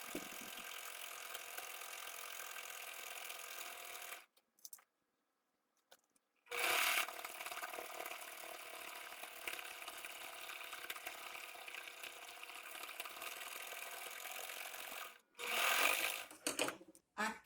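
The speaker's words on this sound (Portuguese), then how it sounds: "Eu vou utilizar o zigue-zague menorzinho que tem na minha máquina, porque ele vai costurar direitinho" A sewing machine runs a small zigzag stitch on a cotton dish towel with a braided trim border, making close rapid mechanical chattering in several runs broken by brief pauses, with someone talking over parts of it.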